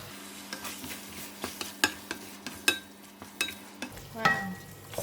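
Tomato rice masala with mixed spice powder and salt cooks in a pan, a soft sizzle running under repeated sharp scrapes and clinks of a spoon stirring, with a busier burst near the end.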